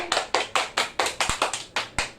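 Hands clapping in a home game between siblings, about ten sharp, even claps spaced evenly over a couple of seconds, close and loud, with no talking.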